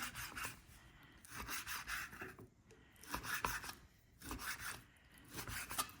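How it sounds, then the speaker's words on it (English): Knife slicing raw bacon strips into half-inch pieces on a cutting board, in rhythmic rasping strokes with short pauses between them, close but fairly quiet, with no talking. "Nothing fancy really, just cutting up the bacon."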